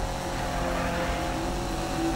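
A race car engine in the video game Need for Speed drones and revs steadily during drifting, a synthetic-sounding motor whine held at a fairly constant pitch throughout.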